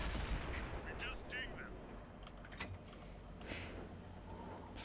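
Tank cannon fire in the Xbox One game World of Tanks, a few booming shots and distant impacts scattered over a low, rumbling battle background, fairly faint.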